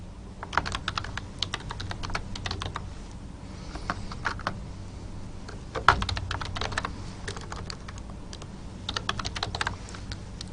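Code for a C++ constructor being typed on a computer keyboard, with bursts of fast, close key clicks separated by short pauses and one louder thump midway, and no speech.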